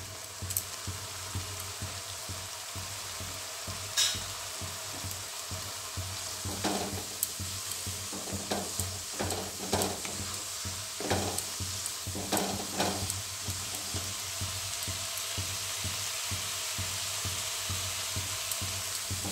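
Whole garam masala of four cardamom pods, two inches of cinnamon and four cloves fries in hot oil for a Jammu-style rajma, a steady low sizzle broken by a run of scraping spoon strokes midway, with no one talking.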